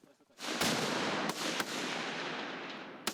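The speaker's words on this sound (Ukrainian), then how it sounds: "Сьогодні стріляв з гранатомета." A loud blast from a grenade launcher erupts and rolls into a long, noisy rumble with a few sharp cracks, fading slowly; weapon fire outdoors, close by, at a National Guard training exercise in Ukraine.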